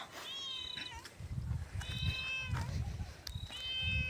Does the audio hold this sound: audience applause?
no